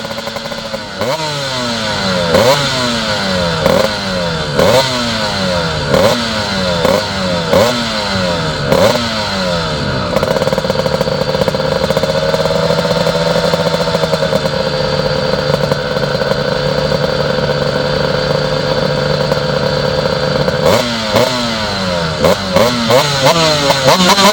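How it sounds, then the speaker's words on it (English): Honda RS125 two-stroke race bike at a motorcycle hillclimb start line, loud and close, revving hard in repeated sharp bursts, holding a steady high buzz, then blipping again. "that's Rowan Carbett from Accrington, riding a lovely little RS125 Honda."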